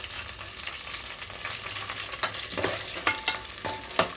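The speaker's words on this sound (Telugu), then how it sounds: "ఇక్కడ ఆయిల్లోనే ఇవన్నీ వేగేటప్పుడే ఇందులోనే కొంచెం పుదీనా అలాగే కట్ చేసి పెట్టుకున్న ఉల్లిపాయ ముక్కలు వేసుకుంటున్నాను" Onion pieces and mint frying in oil at medium flame, a steady crackling sizzle with repeated spoon-stirring scrapes growing sharper toward the end, close and unaccompanied by talk.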